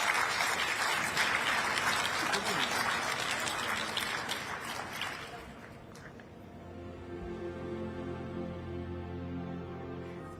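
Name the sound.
audience applause for panelists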